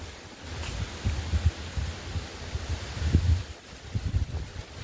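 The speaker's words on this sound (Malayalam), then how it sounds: "അടിപൊളി കാറ്റാണ്" Strong gusty wind blowing through coconut palms, roaring and buffeting the microphone in uneven surges with deep low rumbles, loud and close, no voices.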